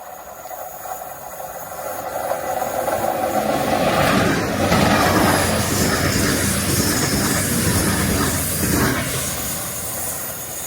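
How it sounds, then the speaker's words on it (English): A TransPennine Express 800 series passenger train rumbles past close by near Malton, England, a steady loud roar of wheels on rails with hissing and faint squeals as the carriages go by. "There's a train approaching."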